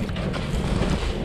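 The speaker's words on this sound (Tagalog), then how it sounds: "Malakas pa yung hangin." Strong wind in a record-breaking snowstorm buffets the microphone in a steady, loud low roar with gusty rumble and no voices.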